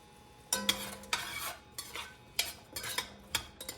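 Utensil stirring food in a pan as it cooks down for a rabbit jambalaya, with irregular scraping and clinking strokes, soft and close, with a faint sizzle between strokes.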